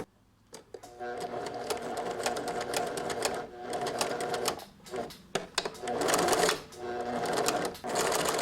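Sewing machine stitching a bolero collar, rapid rattling runs of stitches in several bursts with brief stops between, close and fairly loud.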